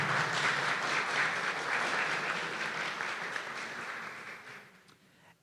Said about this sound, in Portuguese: eu peço uma salva de palmas a toda a organização